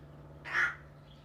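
A single harsh caw from a crow, loud and fairly close, over a steady low hum.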